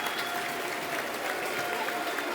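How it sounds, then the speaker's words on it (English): Football crowd at Millwall versus Derby County applauding a player being substituted off, a steady broadband wash of clapping from a large stadium audience throughout. "Good applause for Barry Bannon"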